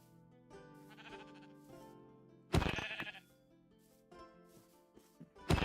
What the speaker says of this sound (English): Yeah, sheep are right over here.